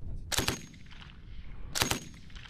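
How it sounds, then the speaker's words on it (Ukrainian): Two sharp gunshots ring out a little over a second apart at a National Guard military training range, each a loud crack with a short decaying tail over faint background noise. "Після цього зброя охоче запрацювала."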